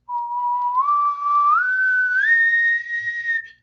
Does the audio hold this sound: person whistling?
yes